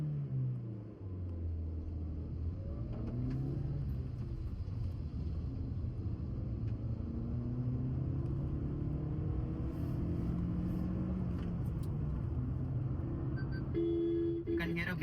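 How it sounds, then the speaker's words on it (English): 2024 Maruti Suzuki Brezza VXI engine revving while parked, the low drone rising and falling in pitch through several sweeps, with a few short beeps near the end. "Left foot on the brake, right foot on the accelerator, putting into first gear, air conditioning off, revving the motor."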